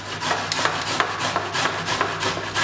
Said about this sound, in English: first thing I'm going to do for the marinade is I'm going to grate down this ginger